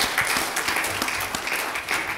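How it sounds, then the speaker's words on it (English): A conference audience gives a steady round of applause after a property investment presentation at MIPIM 2011, dense clapping filling the room throughout with no talk over it. "Give them a round of applause, ladies and gentlemen."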